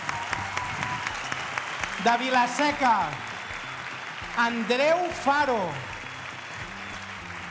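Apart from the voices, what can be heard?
theatre audience applause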